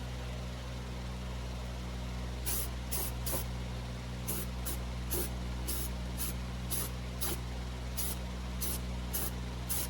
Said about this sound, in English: I'm just going to take some cheap rattle can black and go in here and cover up my overspray.